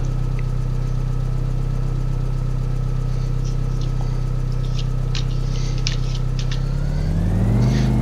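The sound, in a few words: 1971 Mercedes engine running in video game Farming Simulator 15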